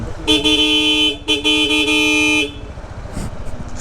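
A Blaupunkt horn fitted to a Honda ADV 160 scooter sounds in two loud, close blasts, a long one and then a shorter one, with a car-like tone and no talk.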